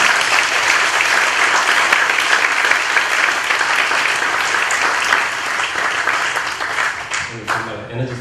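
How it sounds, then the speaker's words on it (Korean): A seated lecture audience breaks into sustained applause for an interpreter, dense steady clapping filling the room for several seconds before thinning out near the end. "좀 박수 한번 보내주세요"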